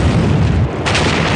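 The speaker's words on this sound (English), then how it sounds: "It matches exactly the patterns of known underwater explosions." Deep, loud boom of a large underwater explosion linked to the Kursk submarine, a single heavy low rumble that dips briefly and then swells again, with no voices.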